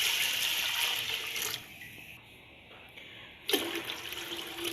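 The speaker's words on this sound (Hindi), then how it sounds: "और इसमें ऐड करेंगे हस्बे ज़रूरत पानी" Water runs from a tap or jug into a pressure cooker holding lentils for a masoor dal and rice dish, a close, steady pouring rush that pauses briefly midway and then resumes.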